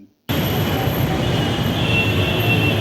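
A Delhi metro train at a station starts abruptly after a moment of silence, then holds a loud, steady rumble with a thin high wheel squeal running over it.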